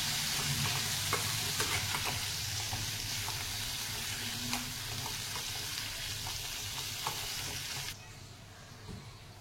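Drumstick pods sauté with turmeric in a pan for a Maharashtrian shevga rassa, giving a steady close sizzle with light stirring clicks. Near the end the sizzle drops noticeably quieter.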